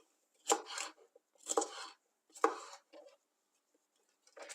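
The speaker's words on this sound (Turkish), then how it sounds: "Kapya biberlerimi de iri olarak doğruyorum." A knife chops red kapya peppers coarsely on a board: four or five distinct, close, crisp cuts with short gaps between, each followed by a softer scrape, with no talk.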